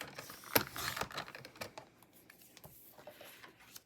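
Scrapbook paper being trimmed into strips on a paper trimmer, short clicks and sliding scrapes over a few seconds with one sharp snap near the start, close and fairly quiet, no talking.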